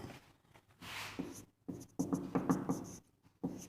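Marker or chalk writing on a board during a thermodynamics physics lecture, a series of close, short scratchy strokes in uneven bursts separated by brief pauses, with no speech over them.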